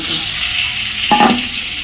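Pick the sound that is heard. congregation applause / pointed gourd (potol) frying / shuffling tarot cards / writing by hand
pointed gourd (potol) frying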